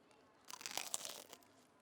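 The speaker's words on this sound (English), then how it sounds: "You want to get the crunch?" Crunchy bites into a grilled, fried peanut butter and jelly sandwich, a cluster of crisp crackling crunches lasting about a second, close and fairly quiet with no talk over it.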